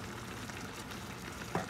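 Chicken korma sautéing in a pan, a soft continuous sizzle and fry with a brief stirring clink near the end, fairly faint and steady with no talking.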